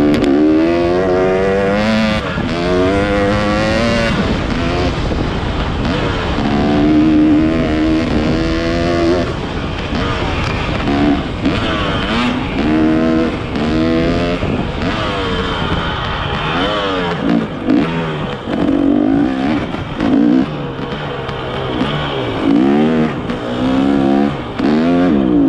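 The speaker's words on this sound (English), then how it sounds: "why is my bike bogging out?" While a motorcycle is ridden on trails, its engine is heard up close, loud and uneven, rising and falling in pitch with repeated stumbles and surges as it bogs out.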